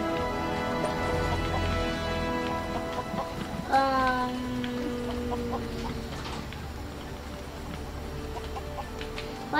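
Clucking and squawks from chickens in the video game Lego Worlds, a few short calls against a steady low background hum, with one louder call partway through.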